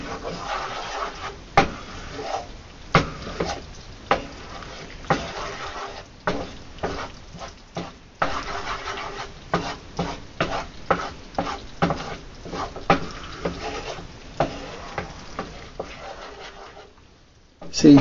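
Wooden spoon stirring a roux in a pan, with repeated scraping strokes and a soft sizzle under quiet talk, the spoon knocking sharply against the pan now and then.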